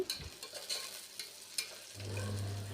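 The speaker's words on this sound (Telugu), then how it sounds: "ముందుగా కట్ చేసి పెట్టుకున్న బంగాళదుంప ముక్కలు కూడా వేసుకొని బాగా ఫ్రై చేసుకోవాలి." Potato pieces frying in a pan, with a few scraping stirs of a utensil followed by a steady, close sizzle that builds toward the end.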